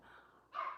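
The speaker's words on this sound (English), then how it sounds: "my dog is barking right now" A dog gives a short, faint bark indoors during a livestream, a quick single yelp-like sound with nothing else around it.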